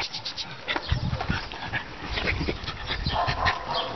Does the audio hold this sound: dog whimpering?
yes